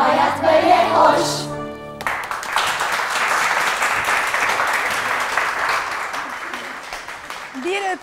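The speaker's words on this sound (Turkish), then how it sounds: "Tekrar alkışlıyoruz arkadaşlarımızı" A studio audience breaks into sustained applause on a Turkish daytime talk show, dense clapping close and fairly loud for about six seconds, following a brief stretch of singing and talk before it starts.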